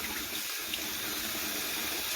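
Tap water runs steadily over fumbwa leaves being washed in a pot, a close, constant hiss of flowing water with no talking.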